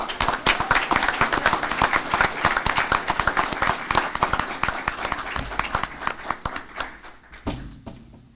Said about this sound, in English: Okay, so a round of applause for these.